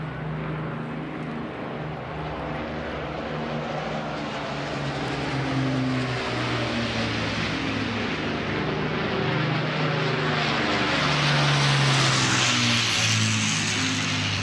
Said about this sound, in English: Once again, that was a Lancaster.